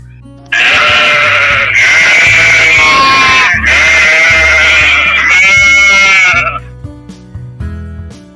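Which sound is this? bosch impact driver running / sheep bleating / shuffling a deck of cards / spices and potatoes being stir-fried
sheep bleating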